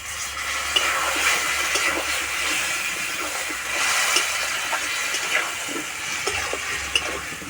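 Water pours into a pan of new potatoes and fried spice paste for a fish curry, making a steady, loud rushing hiss that lasts the whole stretch with small splashes.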